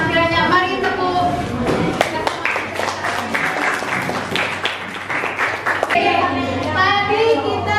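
A sixth-grade class of children claps together in a classroom, the scattered clapping mixed with children's chatter and voices throughout.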